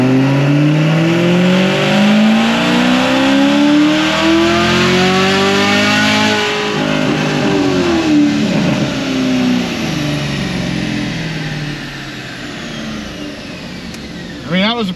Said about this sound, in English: do the dyno pulls in 6th gear